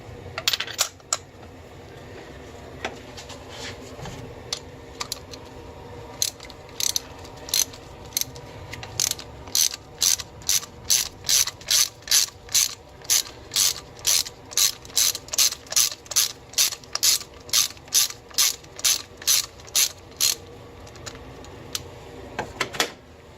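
A hand ratchet works loose a spark plug on a Mazda Miata, giving a long run of steady, evenly spaced metallic clicks that start sparse and settle into a fast, close, regular rhythm with no talk over them.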